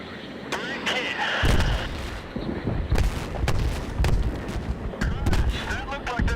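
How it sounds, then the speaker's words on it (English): Bomb explosions in Battlefield 3, Back to Karkand, land as a rapid series of heavy booms and sharp blasts in quick succession, loud and close, mixed with gunfire and some voices. "Bombs away."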